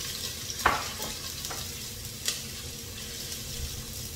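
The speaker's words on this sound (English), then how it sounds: "So right now I've got my oil, which is hot enough. I'm going to put in some chopped onion." Chopped onion frying in hot oil as it is stirred, a soft continuous sizzle broken by a few sharp scraping clicks of the utensil against the pan, fairly quiet and without talk.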